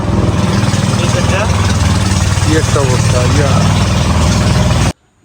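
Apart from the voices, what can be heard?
trawler boat engine running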